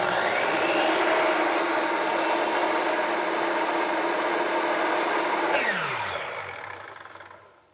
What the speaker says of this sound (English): run my saw right along this edge, and along here, cutting vertically